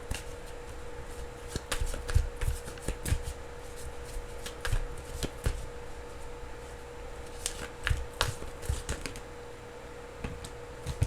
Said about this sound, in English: I'm just going to pull 3 cards.